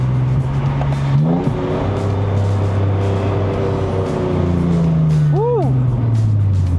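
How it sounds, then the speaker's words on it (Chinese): An idling Lexus RC350 V6 engine revs with a quick rev-matching throttle blip as it downshifts, the pitch jumping then settling, under a steady engine drone. "这个才是该有的那个降档补油声音"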